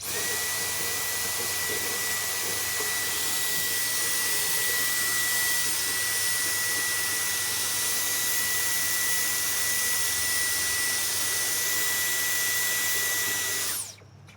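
A vacuum cleaner cleaning a laptop fan runs in a steady, loud whine for a long stretch with a constant high tone, then cuts off abruptly at the end.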